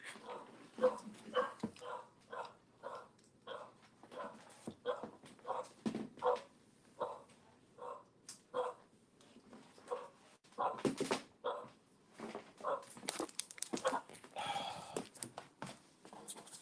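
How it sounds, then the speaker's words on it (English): A dog barks repeatedly from a distance in a house, the short yips and woofs coming in irregular bursts, faint and muffled as if from another floor. "Dog is barking. I might have to get that dog downstairs."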